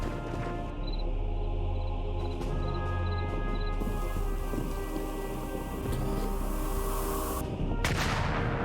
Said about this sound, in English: Who would have thought gunfire would be so loud?